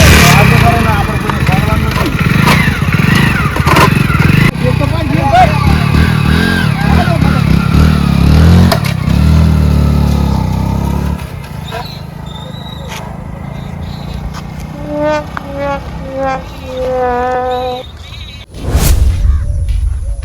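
A motorcycle engine revs loudly close by with people talking over it, then the engine noise drops away and fades as other voices continue.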